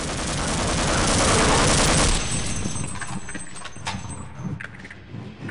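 Rapid gunfire from the Half-Life video game, loud and dense for about two seconds. It then gives way to scattered, quieter shots and clatter.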